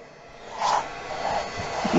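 A steady rushing hiss of hot air blowing from a heat gun onto a plastic grocery bag, rising and falling slightly in strength, close by with no talking.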